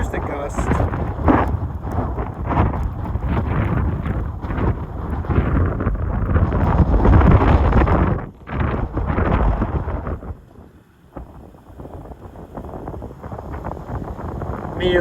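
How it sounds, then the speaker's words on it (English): A strong gust of wind roars across an open outdoor spot, heavy rumbling buffeting on the microphone that builds, briefly drops out, then returns more softly. "There's the gust."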